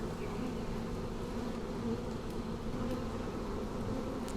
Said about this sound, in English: The bees will go away.